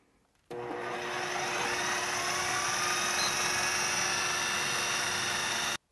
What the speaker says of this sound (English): I'm going to run this on a standard food processor mode here on high for 3 minutes